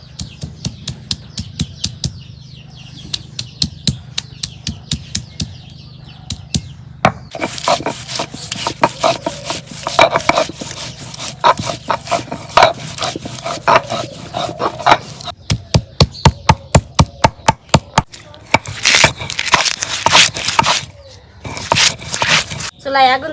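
Ginger and garlic are ground on a flat stone slab with a stone roller, giving repeated rhythmic scraping and knocking strokes, close and fairly loud, in bursts with short pauses and some talking at times.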